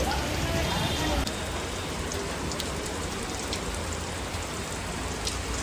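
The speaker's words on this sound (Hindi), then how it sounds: "बीच रास्ते में इतनी जोर की बारिश शुरू होने लगी कि सब ऐसा का तैसा हो गया" Heavy rain pours steadily onto a road, a dense, continuous hiss of drops that stays loud and unbroken throughout.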